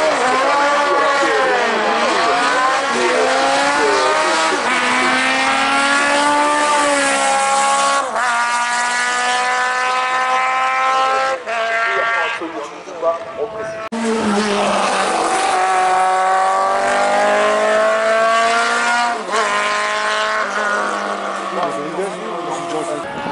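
A race car on a Mont Dore hill climb course in the Groupe FC class roars past at high revs, with rising and falling engine pitch through gear changes. A commentator talks over it throughout.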